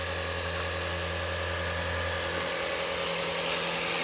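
Fanttik K200 cordless sprayer running steadily as it sprays a window screen, giving a continuous close, loud motor whine and hiss with no talk.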